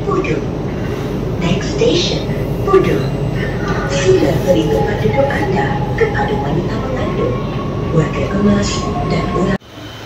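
A Kuala Lumpur metro train running, a steady rolling rumble with a thin mechanical whine on top that holds for about nine seconds before cutting off abruptly.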